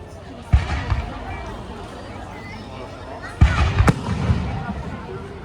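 Firecrackers go off at a village fair in Italy: a few sharp, loud bangs with a quick cluster near the end, over crowd babble and voices.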